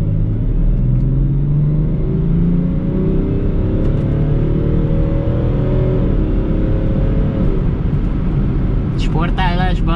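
A BMW X6 40d diesel engine accelerates with its gearbox in sport mode, its rising rumble climbing steadily through the gears from inside the cabin, with someone talking over it.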